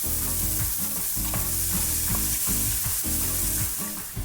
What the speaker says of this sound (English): then we're gonna add in some chopped garlic. Stir it all together.